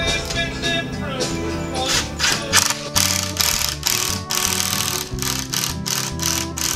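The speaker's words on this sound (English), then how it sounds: "So we're just gonna throw screws right on the end here" Screws driven into barn-board pine on a cathedral ceiling, heard as a run of rapid, rattling mechanical bursts from a driver in quick succession, close and loud over background music.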